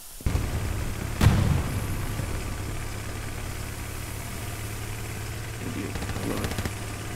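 A vehicle engine drones steadily while driving in the video game Hell Let Loose, with a loud boom early on and voices talking over the continuous rumble.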